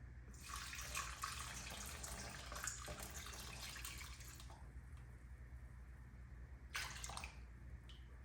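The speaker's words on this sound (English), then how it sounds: "you're going to want to pour in 375 grams of warm water." Warm water pours into a bowl for sourdough bread dough, a steady hissing stream lasting about four seconds, then a brief second splash after a pause, close and fairly quiet.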